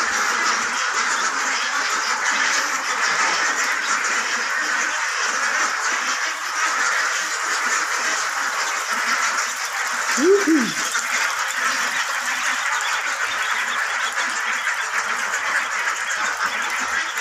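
Ducklings quack in a pen on a farm, a faint chorus of small calls over a steady noisy background, with one clearer quack near the middle.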